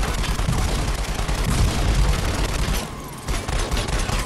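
Loud, rapid gunfire blasts almost without pause in the VR shooter game Raw Data, dense overlapping shots and booms filling the space, with a brief lull near the end before firing resumes.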